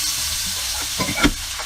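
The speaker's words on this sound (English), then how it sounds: "And now put in the potato shreds" Shredded potato stir-fried in oil in a wok, a steady bright sizzle with a few louder spatters and stirring scrapes, heard alone without voices.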